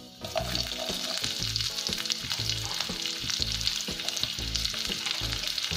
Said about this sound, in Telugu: ఇప్పుడు మనము పొడిగ్గా తరిగి పెట్టుకున్న ఆనియన్స్ వేసుకుందాం.